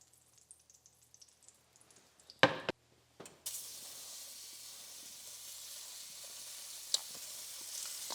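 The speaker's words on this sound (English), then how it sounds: "then we're gonna throw the scallops right in the pan" Scallops hit a hot buttered pan with a sharp clatter, then a steady bright sizzle of searing carries on alone, fairly soft overall.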